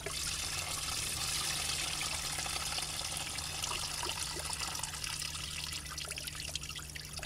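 Coolant from a BMW E36 trickles onto grass in a steady, quiet dribble, a soft continuous liquid patter with a low background hum and no talking.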